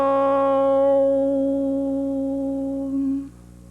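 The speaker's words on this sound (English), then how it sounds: "you will hear the sound Om sung several times to signal the start of the meditation" A single voice sustaining the Sanskrit syllable Om as a steady drawn-out hum with rich harmonics, fading after about three seconds, alone and calm.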